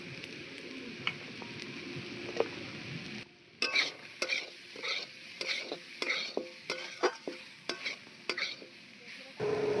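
Coconut flower being sautéed with turmeric and chili powder in a pan, with a steady sizzle and repeated sharp scrapes and clinks of a spoon stirring against the metal.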